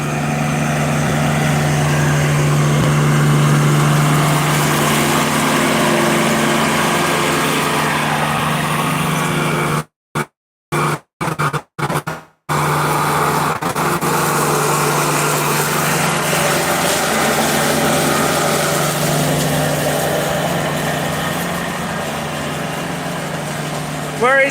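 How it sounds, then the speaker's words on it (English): Lawn mower engine running steadily while mowing around a barn area, a constant droning hum heard up close, cutting out briefly in the middle before carrying on at the same level. People talk over it. "I guess just enjoy watching Tommy do some mowing back here at the barn area"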